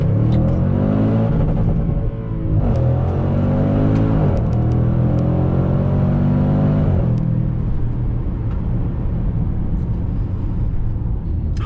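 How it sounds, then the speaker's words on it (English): A supercharged 2021 Range Rover Sport SVR accelerating at full throttle from second gear, its loud engine roar climbing in pitch through repeated upshifts, continuous and close throughout. "Such a difference between full throttle acceleration and half throttle acceleration."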